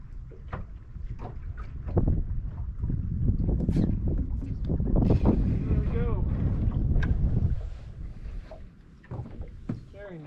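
Wind gusts steadily over Truman Lake while crappie fishing from a boat along a creek channel, producing rough, buffeting rumble with scattered knocks and splashy bursts that swell through the middle and ease near the end.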